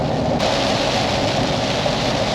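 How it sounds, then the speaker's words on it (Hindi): Heavy rain on a car during a highway drive toward Seoni, a steady dense hiss of water that carries without pause for the whole stretch, loud and close with no break. "अब बारिश भी शुरू हो गई"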